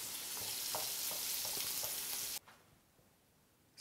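Pork cutlets fry in a hot pan with a bright, steady sizzle that fills the first couple of seconds before cutting off abruptly, leaving near silence.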